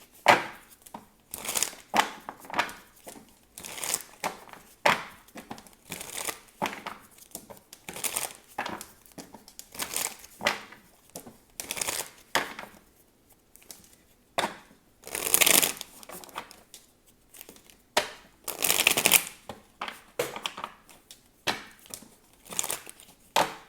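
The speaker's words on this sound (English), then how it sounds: "So let's go ahead and pull some cards." Tarot cards are shuffled by hand in a long run of crisp, close riffles and slaps, repeating in quick irregular bursts without any talk.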